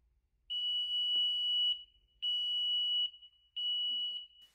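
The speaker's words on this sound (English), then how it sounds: "An audible alarm sounds when the red zone is triggered." Audible alarm of a vehicle collision avoidance system with a laser safety scanner, three long steady electronic tones at a high pitch separated by short gaps, loud and clear with no talk over it.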